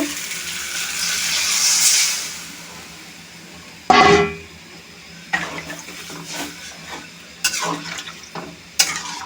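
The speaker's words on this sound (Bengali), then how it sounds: "এখন আমি জল দিয়ে দেব।" Water is poured into a pan of cauliflower and rohu fish-head curry with a steady rushing hiss for about two seconds, then a sharp clatter and sizzle followed by scattered stirring clinks.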